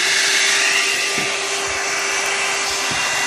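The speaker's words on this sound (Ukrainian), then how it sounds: "для того, щоб вона включилася, беремо фен." An old, broken hair dryer blows steadily with a loud, even airy whoosh and a constant motor whine, running without pause, heating an Electrolux induction hob.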